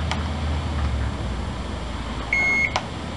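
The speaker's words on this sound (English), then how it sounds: "I'm supposed to press and hold it until it beeps." A single steady electronic beep rings out for about a third of a second against a quiet background hum, followed by a soft click.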